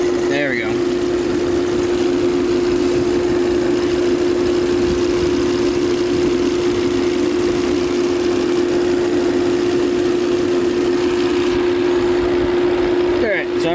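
A 2012 Volvo S60 engine idles with a cylinder 1 misfire, a loud, steady drone with a constant hum running the whole time, heard close up without talk.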